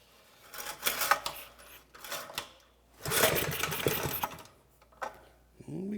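A small Piglet minibike engine sputters and burbles in uneven bursts as it is started with a little choke, catching briefly, dropping out, then running in a longer rough stretch before cutting off.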